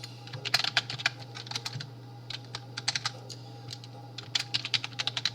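Typing on a computer keyboard: quiet, close clicking keystrokes in irregular bursts with short pauses between them, over a low steady hum.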